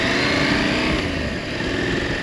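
A Husqvarna Norden 901 motorcycle rides along a country road, its engine a steady, loud, close drone with rushing wind noise and no break.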